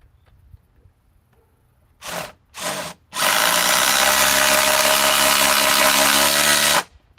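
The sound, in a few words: Ryobi cordless impact driver running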